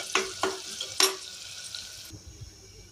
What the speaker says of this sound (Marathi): कांदा आणि टोमॅटो लालसर होईपर्यंत परतून घ्यायचे आहेत।